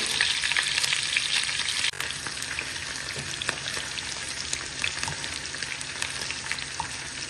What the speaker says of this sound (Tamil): நம்ம முதல்ல பன்னீரை கொஞ்சம் ஃப்ரை பண்ணி எடுத்துக்கலாம்.